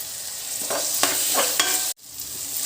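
Tomato pieces sizzle in oil with onion paste, green chillies and whole spices, a close, loud frying hiss broken by stirring scrapes, then a sudden brief cut to near silence before the sizzle returns; no one speaks.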